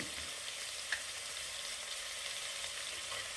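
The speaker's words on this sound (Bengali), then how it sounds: "এবারে ভিজিয়ে রাখা মটর ডাল দিয়ে দেব।" Soaked split peas sizzle in a frying pan as they fry for sambar dal, giving a steady, even hiss close by with no talking.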